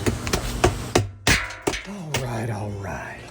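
A hammer strikes in a quick series of sharp, loud metallic whacks, a few of them irregularly spaced, followed by a person talking.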